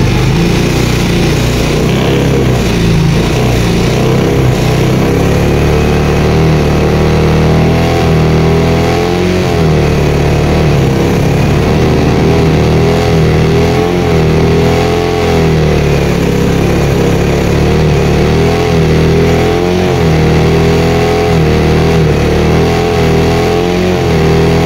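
A Suzuki Smash 115 motorcycle engine revs loud and close, held at high revolutions in a continuous buzzing drone with slight wavering in pitch and no talking.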